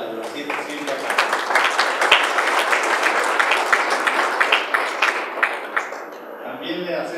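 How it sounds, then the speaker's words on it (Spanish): Audience applause for a university rector at an event, a steady mid-level wash of clapping lasting throughout, with some voices mixed in. "Por favor, un aplauso para la rectora de la ciencia, Silvia Castro."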